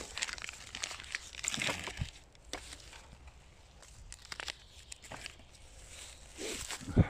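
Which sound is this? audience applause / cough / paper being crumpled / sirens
paper being crumpled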